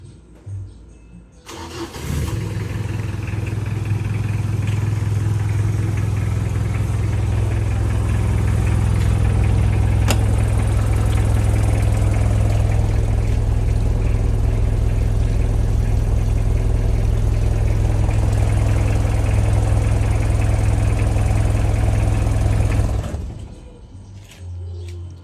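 A Mitsubishi L300 van engine starts up and runs at a loud, steady, close idle for about twenty seconds before cutting off, with no talk over it.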